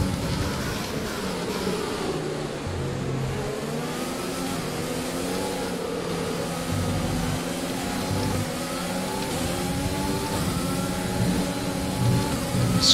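Race car engine in the F1 2020 video game, a steady high whine with shifting revs as the car accelerates, fairly constant in level with no speech.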